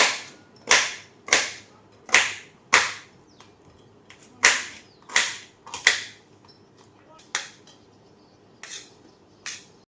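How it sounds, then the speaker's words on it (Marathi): Pineapple being chopped into small pieces with a knife on a board, a series of crisp, sharp chopping clacks at an uneven pace, close and clear with light background noise. "आता ह्या कापलेल्या पायनॅपलचे ना आता छोटे छोटे असे तुकडे करून घेते"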